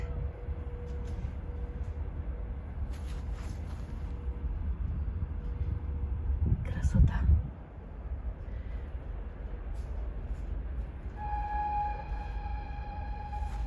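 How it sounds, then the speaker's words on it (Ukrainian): A distant train rumbles low and steady in the open air before rain, with a brief louder swell midway, faint tonal hums and a short spoken word. "поїзд їде. Його ніколи не чутно, а як починається така погода перед дощем, о, тоді починає чутно поїзда."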